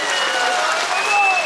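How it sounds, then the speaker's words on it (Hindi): Steady crowd applause fills a public gathering in Shi-Yomi marking the Tato-II hydroelectric project, with a voice speaking over the clapping throughout. "ताली बजा दीजिए"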